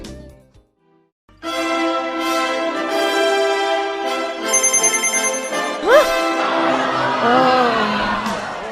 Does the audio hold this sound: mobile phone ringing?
yes